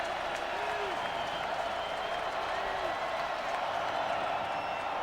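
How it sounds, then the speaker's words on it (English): Football stadium crowd at a college game, Tennessee against Vanderbilt in 2007, a broad steady roar of distant cheering and clapping that swells slightly, filling the whole stretch. "Crowd beginning to get a little louder as Tennessee's on defense again."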